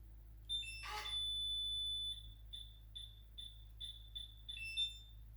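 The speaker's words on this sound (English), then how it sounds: "the lock makes a long beep and a series of short beeps" An electronic cabinet lock gives a long high-pitched beep while reading a programming card, followed after a pause by a quick series of short, evenly spaced beeps, fairly quiet.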